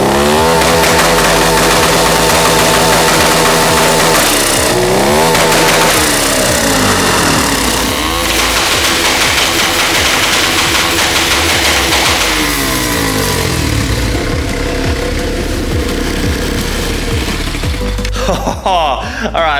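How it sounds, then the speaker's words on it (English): A 150cc turbocharged engine screams continuously against the rev limiter, loud and close, with rapid stuttering bounces and turbo flutter bursts throughout. "the goal with this new turbo setup was to get turbo flutter and have a really cool sounding limiter"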